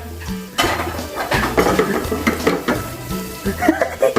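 Mussels being stir-fried with garlic in hot oil: a steady sizzle under repeated clatter from a spatula scraping and stirring the pan, loud and close throughout.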